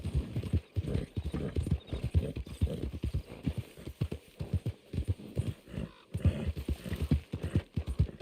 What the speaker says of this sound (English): A horse stuck on a rock.